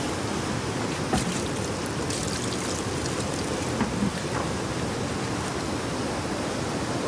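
Water rushes steadily in a broad, constant wash, a fast-flowing mountain stream heard up close, with no voices.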